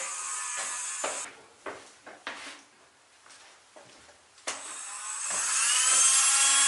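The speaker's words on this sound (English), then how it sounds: "I basically take the Dremel and I cut in a cross-like pattern all the way down, like all the way through the screw head." Dremel rotary tool cutting through screw heads, a high whining grind in several short bursts with pauses, then a longer sustained cut that grows louder at the end.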